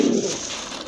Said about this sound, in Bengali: অনেক বড় সাইজের এক জোড়া কবুতর